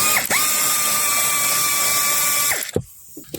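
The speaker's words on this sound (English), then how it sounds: "And let's shift to air tools." Pneumatic ratchet spinning steadily for about two seconds while working on a Toyota Innova front evaporator, a loud sustained whine that cuts off abruptly, followed by a few faint clicks and handling noises.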